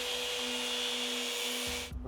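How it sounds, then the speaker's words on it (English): A hand grinder cuts through a differential bearing from a BMW M-series rear differential. It gives a steady, loud whirring drone with a high tonal whine, then stops abruptly near the end. "you have to use the hand grinder to cut the bearing and remove it"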